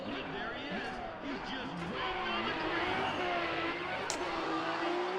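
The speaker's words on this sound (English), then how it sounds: "we can just get an incredible burnout" Engine revving hard and steadily in Need for Speed: ProStreet, a car doing a burnout with a sustained, loud, wavering roar and tire noise throughout, under someone talking.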